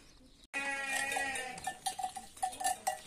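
A flock of sheep, ewes with young lambs, and goats wearing cowbells, giving loud bleating close by along with rapid metallic bell clanking throughout.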